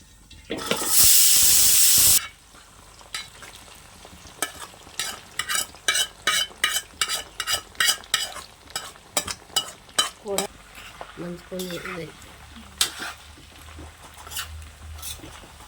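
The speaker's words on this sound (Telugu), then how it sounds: "ఇప్పుడు ఈ ఆయిల్లో మనం ఉడకబెట్టుకున్న చికెన్ని వేయించుకుందాం." Boiled chicken drops into hot oil for a chicken pickle, starting with a loud hissing burst, then rhythmic spatula scrapes and stirring over a quieter sizzle, close up, with a brief voice near the end.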